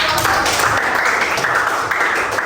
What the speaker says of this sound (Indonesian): Oke, baik, beri tepuk tangan dulu.